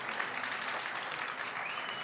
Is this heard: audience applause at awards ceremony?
yes